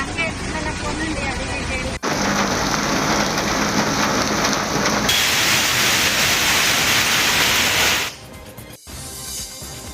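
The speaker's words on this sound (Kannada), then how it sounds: "ಬೆಂಗಳೂರಲ್ಲಿ ಒಳ್ಳೆ ಮಳೆ ಆಗ್ತಾ ಇದೆ" Heavy rain pouring down in Bengaluru, a loud, dense, continuous hiss of rain hitting surfaces, with abrupt cuts between separate rain shots.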